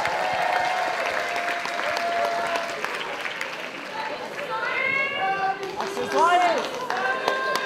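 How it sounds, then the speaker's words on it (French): Audience applause at a cosplay contest stage show during a Mozart rock-opera skit, a steady broad wash of clapping that runs throughout, with music and voices mixed in over it. "On les applaudit bien fort."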